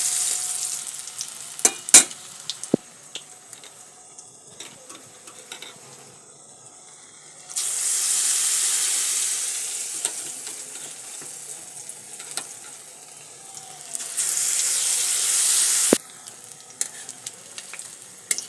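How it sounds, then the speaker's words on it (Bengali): Potato snacks coated in gram flour batter sizzle in hot oil, with two loud bursts of bubbling frying as pieces drop in, separated by quieter crackle and a few sharp clinks of utensils; no talking. "বেসনের মধ্যে ডুবিয়ে কিন্তু তেলের মধ্যে দিয়ে দেব"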